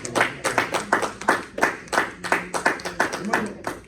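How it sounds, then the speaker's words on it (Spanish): A church congregation claps in a steady, rhythmic beat as an offering of applause during a worship service, about a dozen regular claps filling the space. "démosle una ofrenda de aplausos al Señor."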